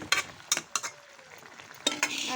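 Pabda and bata fish stir-fried together with tomato in a pan, with several distinct stirring scrapes and clatters over a low sizzle, close and moderately loud, no talk.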